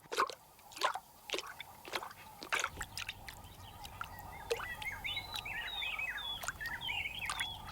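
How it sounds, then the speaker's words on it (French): A cat laps water with quick curled flicks of its tongue, making a string of soft, wet, rhythmic slurps up close. The lapping then gives way to birds chirping outdoors in the background. "Ils se contentent de laper la surface de l'eau en donnant des petits coups de langue qu'ils incurvent vers l'arrière pour attraper l'eau"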